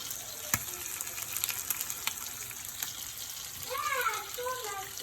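Fish frying in oil with curry leaves gives a faint, steady sizzle with scattered crackles and a few sharp clicks, low in level, while a voice rises briefly near the end.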